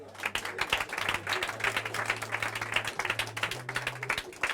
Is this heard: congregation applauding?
yes